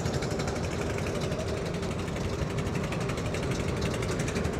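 A trawler boat engine runs steadily on a river crossing near Hajiganj fort in Narayanganj, a continuous loud low drone with slight rhythmic throbbing and no talk over it.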